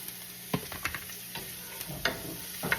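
Garlic browning in oil in a frying pan, a soft continuous sizzle broken by several sharp scraping clicks of a utensil stirring against the pan.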